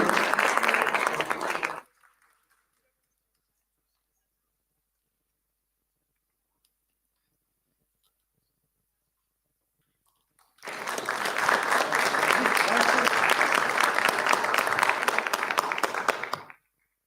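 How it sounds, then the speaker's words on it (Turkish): Two bursts of crowd applause at an award ceremony in a library, a short one fading out at the start and a longer, full round of clapping after a long silence. "Başkanımızı alkışlarla uğurluyoruz"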